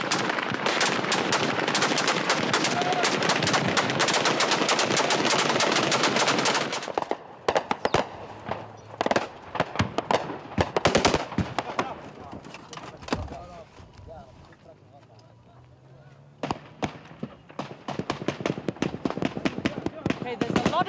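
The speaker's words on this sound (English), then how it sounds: "Suddenly, after a lot of quiet for a long period, there's an awful lot of firing" Heavy bursts of machine-gun and rifle fire in Suwaida, Syria, loud and sustained for several seconds, then breaking into scattered, irregular volleys of shots at varying distances.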